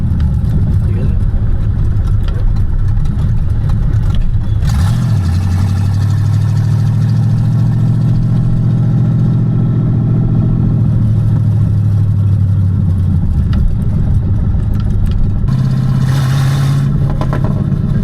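A 1992 Ford Mustang Foxbody, heard at night, settles into a loud, rumbling idle after start-up. Its engine lifts into a higher held drone, drops back and then rises again, with people talking over it.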